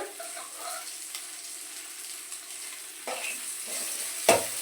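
Onions and cumin fry in oil in a pan, giving a steady soft sizzle with occasional stirring scrapes and a brief louder clatter near the end. No one speaks.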